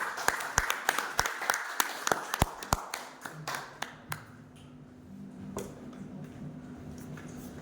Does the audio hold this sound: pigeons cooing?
no